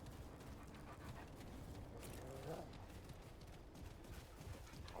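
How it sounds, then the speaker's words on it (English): A companion dog in the video game Remnant II whimpers and pants softly, faint beneath a steady wash of game noise, with a voice now and then. "Every time I hear my dog making noises, it makes me happy."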